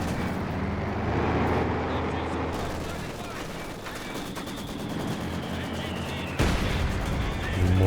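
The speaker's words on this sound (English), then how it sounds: "Mortar forcing away the machine gun in the center." Mortar blasts and machine-gun fire from a Company of Heroes battle, a dense steady rattle of gunfire with a heavier burst near the end, running continuously under talk.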